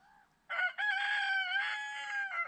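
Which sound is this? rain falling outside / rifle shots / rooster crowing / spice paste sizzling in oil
rooster crowing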